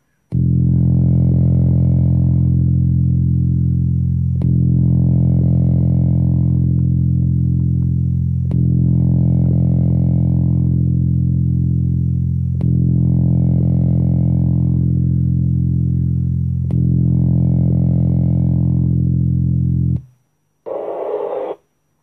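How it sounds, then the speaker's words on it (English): A low, droning hum with rich harmonics, sonified from a Kepler star's sound waves, pulses in five long swells, each about four seconds, then a brief different burst at the end; no talking. "Here is another sound of the sound waves of Kepler."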